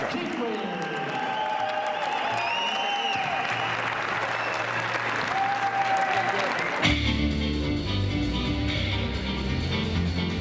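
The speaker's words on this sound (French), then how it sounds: "On applaudit Takumi, le numéro 5." A crowd applauds a contestant at a world pizza championship, with steady clapping filling the room; partway through, music and voices join in over the applause.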